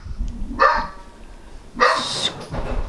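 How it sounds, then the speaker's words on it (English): A pet dog barks agitatedly indoors at a worker in the house, with two loud bursts of barking separated by a short gap and some muffled room noise between. "I have somebody working in the house, so the dog's gone ballistic."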